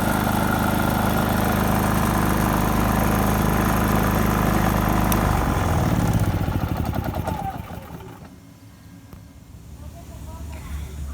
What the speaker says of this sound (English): We had the generator running for about an hour